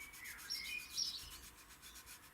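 A damp pad rubs excess weathering off an Airfix FW190 model kit, a faint, soft, repeated scrubbing heard close up in an otherwise quiet room.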